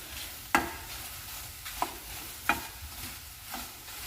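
Chicken wings with habaneros sizzle in a hot pan as a utensil stirs them, about four sharp scraping knocks over a soft, steady frying hiss, with no talking.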